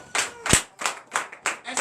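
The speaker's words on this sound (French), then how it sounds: "Donnez l'acclamation à Jésus." A church congregation clapping for Jesus during a night deliverance service, a short run of about six sharp, rhythmic hand claps, close and moderately loud.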